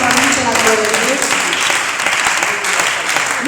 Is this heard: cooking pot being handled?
no